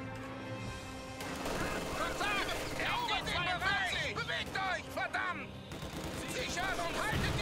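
Machine gun fire from the Company of Heroes 2 video game rattles in rapid bursts, mixed with crashes, chirpy game effects and a battlefield din, fairly loud throughout with no talking.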